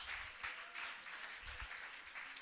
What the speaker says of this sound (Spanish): Dele palmas de alabanza al Dios que nos bendice